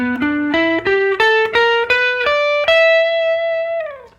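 Electric guitar runs a blues lick through the minor pentatonic scale with added sharp-four blue notes, ending on a long sustained note. The notes step upward one at a time, loud and close, with no talking.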